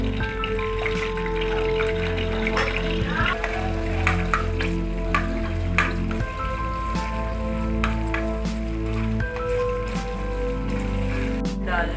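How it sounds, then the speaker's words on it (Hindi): Garlic ginger paste frying in about two tablespoons of hot oil, a continuous close sizzle and bubbling that stays even, with soft music behind it. "उसमें हम डाल देंगे लहसुन अदरक का पेस्ट।"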